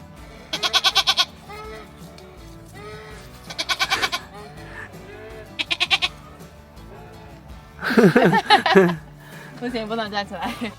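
Several goats bleat in three short wavering bursts, close and fairly loud, followed by a louder cluster of bleats from one or more goats near the end, on a snowy rural homestead with chickens and dogs nearby.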